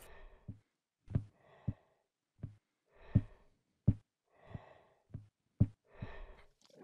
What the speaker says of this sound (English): I hear breathing.